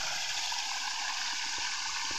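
A river stream flows by a deep pool at Fosso dell'acqua raminga near Rome, giving a steady, dense rush of water with soft low gurgles underneath.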